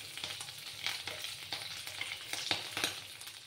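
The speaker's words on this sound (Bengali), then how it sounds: "ডিমগুলো ভাজা হয়ে গেছে।" Eggs frying in a kadai, a close, lively sizzle with repeated sharp spatters and stirring scrapes recurring roughly every half second, no voices present.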